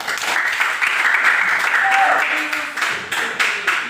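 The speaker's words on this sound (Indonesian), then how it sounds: "beri tepuk tangan" Classroom of students in Indonesia clapping together for a classmate's correct answer, a steady burst of dense applause lasting throughout with faint voices mixed in.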